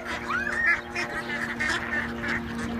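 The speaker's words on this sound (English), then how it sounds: "I've never seen so many ducks in one place" A flock of waterfowl calling continuously, overlapping honks and quacks at close range with a steady low hum underneath.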